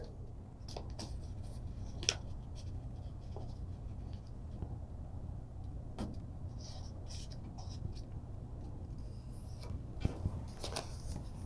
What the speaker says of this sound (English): Then we're going to fold this back.